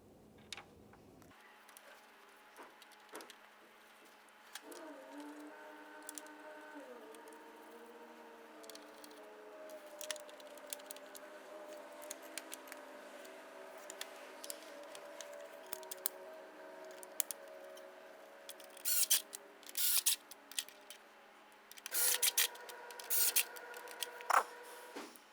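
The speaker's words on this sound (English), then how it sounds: "now we can start in each of our 8 mounting screws" Grille mounting screws being tightened on a 2006-2011 Honda Civic, heard as a thin, quiet whirring tone that runs steadily under light ticks and clicks. Short scraping bursts come near the end.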